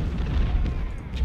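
Artillery booms in Ultimate General: Civil War as cannons fire, giving deep, muffled thuds that roll together into a heavy low rumble over a short stretch.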